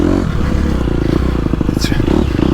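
Gas Gas EX250F dirt bike engine running while being ridden, a steady loud four-stroke drone with rapid rhythmic firing pulses and some clatter, continuous throughout at close range.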